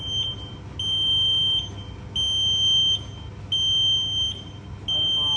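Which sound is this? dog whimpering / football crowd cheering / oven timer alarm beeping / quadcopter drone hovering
oven timer alarm beeping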